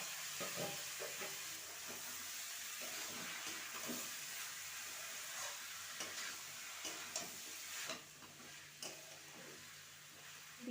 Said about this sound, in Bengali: 1 মিনিট মতো ভাজার পর এর মধ্যে দিয়ে দেব বাঁধাকপি, যেটা আমি আগে সিদ্ধ করে রেখেছিলাম